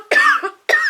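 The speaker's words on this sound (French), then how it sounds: "J'essaie de me cacher pour tousser" Two quick coughs from one person hiding the sound while tasting tea, close and dry, the first drawn out slightly with a rasping tail, the second following after a short pause.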